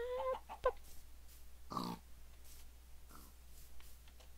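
Blocky chickens cluck in Minecraft, a few short scattered clucks and squawks, faint and spaced apart over quiet game ambience.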